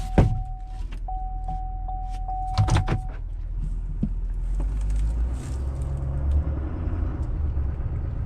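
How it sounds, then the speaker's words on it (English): A Chevrolet diesel engine idles with a steady low rumble throughout, while a chime repeats, a few door clunks sound and a motor briefly whirs near the start. "Oh, I love that diesel sound."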